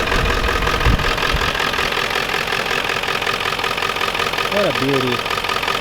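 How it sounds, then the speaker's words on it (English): A Ford F-350 with a 7.3L Powerstroke turbo diesel idles steadily after a cold start, a loud, continuous low rumble running throughout while someone speaks briefly over it. "Powerstroke diesel."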